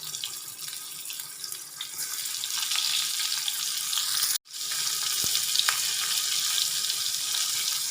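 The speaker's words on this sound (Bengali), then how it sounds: "একই তেলে ভেজে নেব পটল" Pointed gourd (potol) frying in hot oil in a pan, a loud, steady close-up sizzle with crackles, cut by a brief silent gap midway before resuming.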